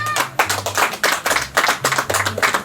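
A church congregation clapping in a quick, fairly steady rhythm, loud and close, with a low hum underneath.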